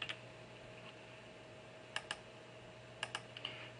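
A computer mouse clicks while a fuel map for a Volvo S40 T5 is edited in tuning software: a few sharp, quiet clicks in pairs, close up over a low steady hum, with no talking.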